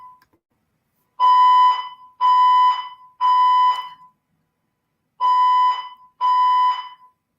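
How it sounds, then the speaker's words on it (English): Piercing electronic alarm sounding in five loud, evenly spaced beeps of about three-quarters of a second each, with a pause midway, close and alone with no talk. "So this alarm sure is testing my ability to remain calm and let this piercing sound be okay."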